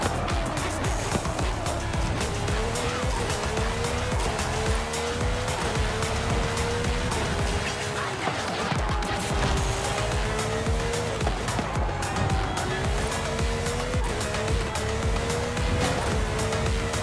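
Engine of a Brabham BT62 race car in Forza Horizon 5, a steady loud drone with wavering tones as the tires slide through corners, continuous throughout with no talking.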